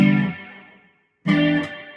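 A guitar run through a delay effect pedal set to fast repeats: a tone with tight echoes that decays over about a second, a short silence, then a second sustained burst of repeating notes, moderately loud with no talking.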